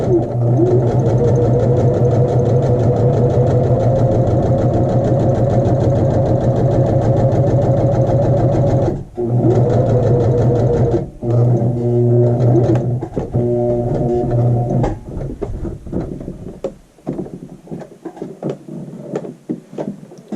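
A sewing machine stitches practice lines on a muslin square, running loud and close with a steady humming whir, then stops and starts in shorter bursts with clicks between runs.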